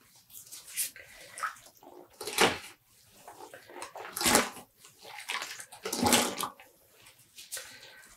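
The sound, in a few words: squeezing water out of dyed cotton yarn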